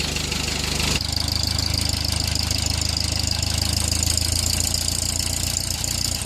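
The engine of a 70-year-old tractor runs at a steady idle, a loud, even chugging drone close by that holds without a break, with a slight shift in tone after the first second.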